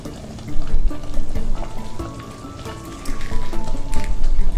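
Fish for Bahamian stew fish frying in hot oil, giving a loud, steady crackling sizzle like heavy rain that swells in intensity partway through.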